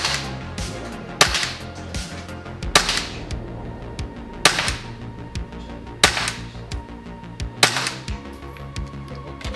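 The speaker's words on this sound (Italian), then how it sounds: "adesso andiamo a sparare invece sui due cerchietti. 3 colpi per cerchietto" A WE Galaxy airsoft pistol fires at small target circles: six sharp, close cracks spaced about one to two seconds apart, each crisp and snappy, with no talking over them.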